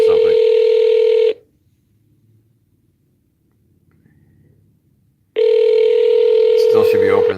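A landline telephone rings in two long, loud electronic bursts separated by a few seconds of near silence, with a faint trace of activity in the gap.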